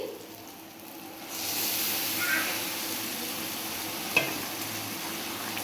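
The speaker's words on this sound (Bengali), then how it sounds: "খুব ভালোভাবে মিশিয়ে নিচ্ছি মশলার সাথে তরকাটা" Boiled tarka (egg tarka) being stirred and mixed with spices in a pan, a steady broadband sizzle that rises after a quiet start, with a single sharp utensil knock near the end; no voices.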